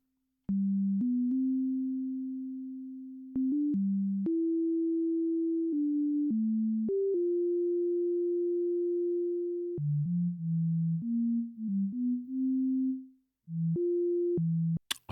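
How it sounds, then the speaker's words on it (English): A pure, clean sine-wave oscillator tone from the Drambo synthesizer app stepping between low pitches, held notes and quick changes, with brief silent gaps and no talking. "the sine wave is like the most standard type of wave for an oscillator"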